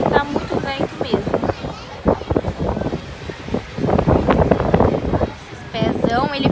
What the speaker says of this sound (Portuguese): Pena que tá muito vento mesmo.